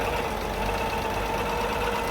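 A recently serviced 4.2 litre 2F petrol engine in a 1976 Toyota FJ40 Land Cruiser with an aluminium radiator idles smoothly, a steady, loud, close mechanical hum throughout.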